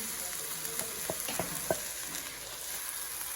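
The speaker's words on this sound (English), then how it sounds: "I'm going to add my vegetables at the same time." Vegetables are added to a hot pan of covo greens and tomatoes and fry with a steady, moderately quiet sizzle, broken by a few sharp crackles and pops. No one speaks.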